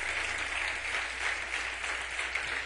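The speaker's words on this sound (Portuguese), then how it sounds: "Dê um aplauso, vai." A church congregation breaks into steady, sustained applause during a Sunday service, a dense, even wash of clapping that fills the room with no speech over it.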